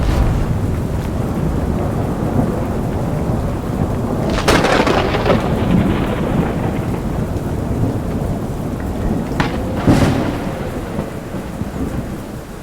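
A thunderstorm in the video game Black One Blood Brothers: steady heavy rain hisses throughout, broken by two sharp, loud thunder cracks that rumble off, with no talking.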